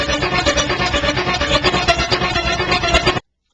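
Opening music of an electronic track, a dense, loud, full-band passage of layered strings and percussion with a steady pulse, playing alone for about three seconds before cutting off abruptly.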